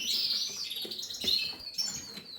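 Cage birds in an indoor bird room, lesser redpolls and miniature goldfinch mules, chirping and twittering in quick overlapping bright calls close by, with no talking.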